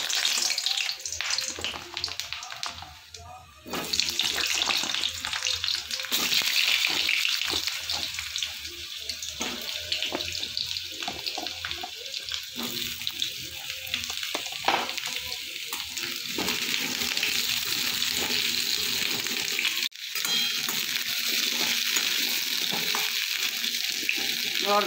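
Potatoes dropped into hot oil in a home kitchen, a dense hissing sizzle with occasional stirring clatter, close and continuous, with a voice talking faintly over it.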